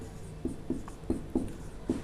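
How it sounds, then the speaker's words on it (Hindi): Chalk or marker strokes on a board during a Hindi geography lecture, five short scratchy strokes spaced irregularly, close and fairly quiet, with no talking over them. "मैं यहाँ लिख देता हूँ,"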